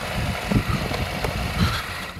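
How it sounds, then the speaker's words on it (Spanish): A 2022 KTM 890 Adventure R motorcycle engine runs steadily on a trail ride, its drone mixed with a loose plastic rattle and a few brief knocks. "suena mucho la moto"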